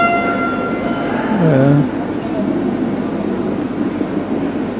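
A loud, brassy air horn blares and then sags downward in pitch, over a continuous roar of background noise with voices at a curling bonspiel.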